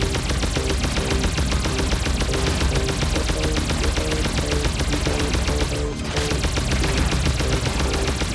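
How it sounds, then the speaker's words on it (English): Laser guns in the shooter game Alien Shooter fire nonstop, a dense rapid stream of sharp pew-like shots layered over steady game music, loud and unbroken for several seconds with one brief dip. "Laser fire!"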